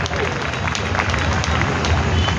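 Thin audience applause at a poetry recital in Lohiya Park, Lucknow: a dense, steady patter of clapping mixed with crowd murmur that holds at an even level for the whole stretch.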